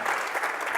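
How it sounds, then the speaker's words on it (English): Audience clapping for event sponsors at a closing session, a steady dense wash of applause from a sizable crowd, heard alone. "Let's give a round of applause to the partners that help make this possible."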